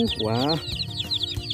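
Colourful dyed chickens cluck close by among ducks being loaded onto a truck, a short burst of cheeping and clucking with a man's brief exclamation over it.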